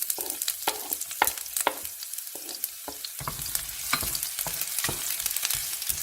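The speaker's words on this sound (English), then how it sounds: "our peanut oil is heated up in medium heat. I will put now the onion." Half an onion hits peanut oil heated over medium heat, giving a close, crackling sizzle with irregular pops and stirring scrapes for several seconds, no voices.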